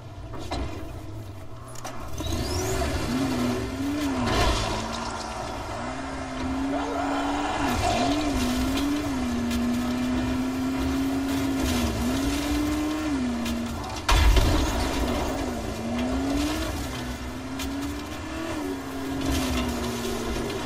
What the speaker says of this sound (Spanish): ¿Dónde está mi coche? Aquí.